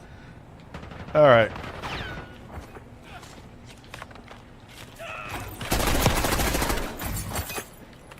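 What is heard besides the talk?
gunfire in the video game Counter-Strike 2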